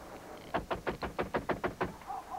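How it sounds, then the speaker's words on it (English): Heavy fist pounding on a door by enforcement agents, about nine loud, evenly spaced blows in a rapid steady rhythm, close by with no talk over them. "We're going to kick in the door."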